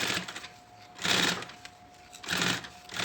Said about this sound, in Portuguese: E vou rebater a costura aqui em cima